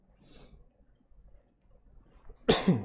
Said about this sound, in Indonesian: sorry ini batuk